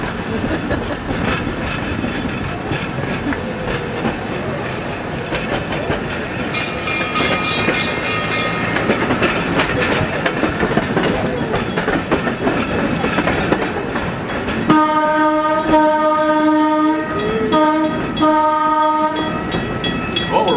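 The Rio Grande Southern Galloping Goose, a narrow gauge railcar on a Southern Colorado line, rumbles past close by with steady wheel clatter, then sounds a loud multi-tone horn in several blasts near the end.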